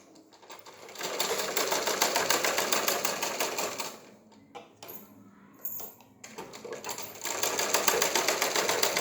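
Rapid, close stitching from a sewing machine as it sews lining onto a blouse neckline, running in bursts with a brief pause partway through before the steady mechanical rattle resumes.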